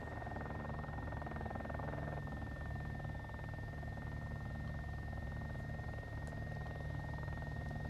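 A helicopter in the video game Arma, over Takistan, holds a steady, low, droning rotor thrum with a constant whine on top, faint and unchanging throughout, and no voices over it.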